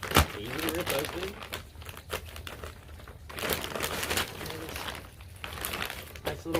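Sealed plastic packaging around a roll of poultry netting is torn open by hand, giving close crinkling and ripping bursts that come and go, with a person speaking partway through.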